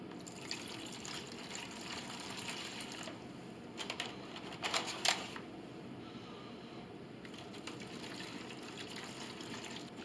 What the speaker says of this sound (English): So now I'm just going to fill these trays up with some water.